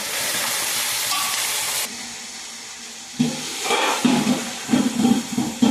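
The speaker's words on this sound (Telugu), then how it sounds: "ఇవన్నీ ఒకసారి తిప్పుకొని కొంచెంసేపు మూత వేసి ఒక ఐదు నిమిషాలు అయితే ఉడికిద్దామండి" Sambar vegetables sizzling and frying in a pot, stirred with a ladle: a steady bright hiss first, then a quieter simmer, then rhythmic scraping stirs over the sizzle, close and moderately loud.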